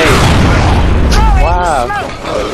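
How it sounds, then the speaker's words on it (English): Grenade blast in the Gears of War 3 multiplayer match, a loud, close boom with a broad low-end rumble that dominates, while players' voices talk over the tail. "Grenade."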